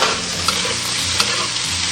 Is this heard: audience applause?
no